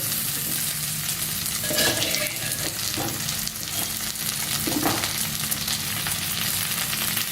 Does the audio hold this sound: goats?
no